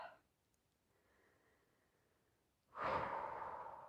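A person in a yoga flow exhales audibly and close up, with a soft breath at the start, a quiet pause, and then a long, loud outbreath that trails off.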